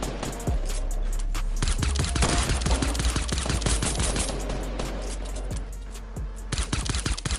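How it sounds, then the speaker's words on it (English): Rapid pistol gunfire in the Fortnite video game, shots aimed at trees, crackling in fast irregular bursts throughout with a steady ambient hum beneath, loud and close. "I'm gonna shoot their trees down because I got a bunch of pistol ammo"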